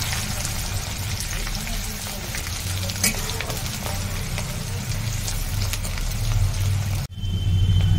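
Chopped onions frying with raw jackfruit in a pan, a continuous close sizzle with stirring scrapes and a few utensil knocks, a brief pause near the end.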